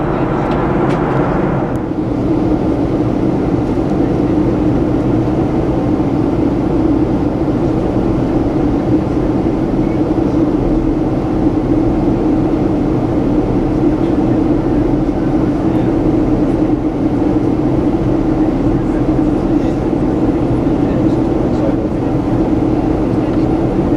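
Steady loud roar of a Jet2 airliner cabin during descent toward Rhodes, a constant broadband engine and airflow drone filling the whole stretch without pause.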